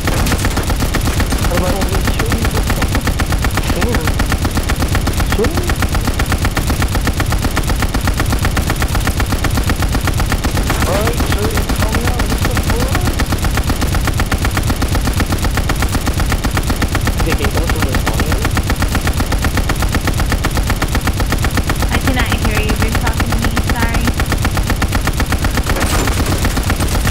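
Rapid, loud automatic gunfire from Call of Duty Vanguard, on the Gavutu map, crackles almost nonstop in dense bursts and fills the whole stretch, with a voice occasionally breaking through the din.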